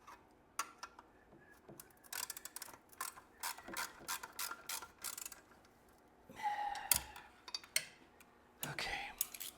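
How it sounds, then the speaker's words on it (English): A ratchet tightens a nut on a chain guard bolt of a Norton motorcycle, giving quiet, close, irregular clicking bursts with brief pauses and a few louder metallic knocks. "All this to put one nut on one bolt on a chain guard."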